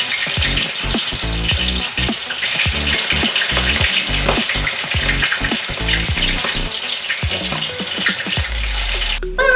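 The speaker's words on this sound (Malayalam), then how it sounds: "എണ്ണ ചൂടായിട്ട് ഇപ്പൊ നമുക്ക് ഇനി ചിക്കൻ എടുത്തിടാം" Chicken pieces fry in hot oil for biryani, a loud, close, continuous sizzle with crackling and intermittent stirring scrapes and clatters against the pan, with no talking.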